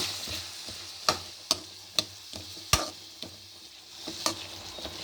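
A spoon clacks against a frying pan while tomatoes sizzle softly underneath, several sharp scraping strikes at an uneven pace, close and moderately quiet.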